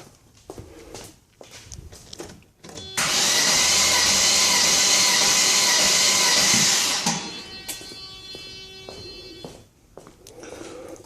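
A Mercedes 300CE engine cranks on the starter for a compression test, a loud steady churning lasting about four seconds before it stops, with quieter handling noises around it.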